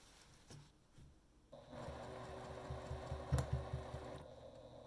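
A sewing machine stitches a quilt with a close, steady mechanical whir and rapid needle clatter. Quiet handling sounds come first, then the motor starts and runs continuously to the end.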